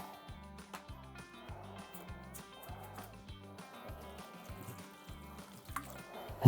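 Liquid fortifier is poured into a thick, lumpy cement clay sculpting mix, producing faint, soft wet dribbling and squishing sounds under a steady low background.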